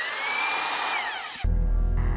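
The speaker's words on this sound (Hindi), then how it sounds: "और उसके हाथों में पकड़ी हुई थी एक ड्रिलिंग मशीन," Electric drilling machine: a high whining spin that winds down and cuts off, followed by a low rumbling motor hum as it restarts, close and loud.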